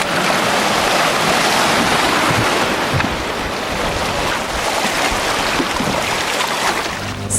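Churning river rapids in Guyana rush past a boat, a steady loud wash of water with wind buffeting the microphone throughout and no voices.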